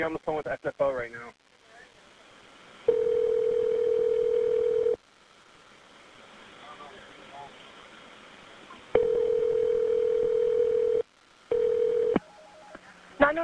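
Telephone keypad tones and a steady dial tone come through a 911 dispatch line while an emergency call about a plane crash at SFO is transferred, with long flat tones at intervals between brief voices and line noise.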